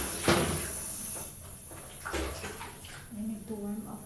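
Tap water running and splashing during face washing at a sink, close and soft, with a few thuds and handling knocks, under a person talking.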